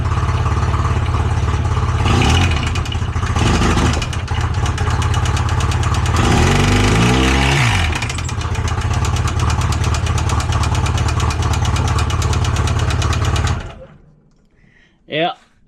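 A small engine run on Lucas oil drones loudly and steadily, revs and surges a couple of times, then chokes out and stops as it seizes, leaving near silence with brief voices at the end.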